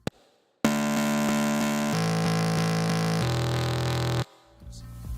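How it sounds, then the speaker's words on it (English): A buzzy, harmonically rich synth bass holds three sustained notes in turn, each stepping lower, then cuts off abruptly. "I've now changed it to a bass synth"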